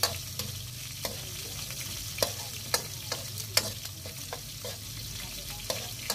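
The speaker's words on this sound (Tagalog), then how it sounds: "At ilalagay na po natin ang ating patula." Sponge gourd (patola) with browned garlic and onion sizzles steadily in a pan, with a constant frying hiss broken by sharp, irregular clicks and scrapes of stirring.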